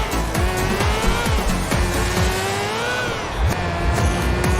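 A motorcycle engine in GTA 4, a loud revving whine that rises and falls as the bike speeds along, with sharp tire noise and crashes mixed in, steady throughout.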